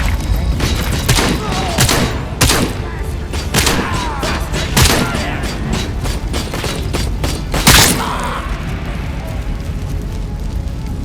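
Gunfire from the Robocop video game, rapid bursts and booming shots repeating close and loud throughout, with one heavy impact late on.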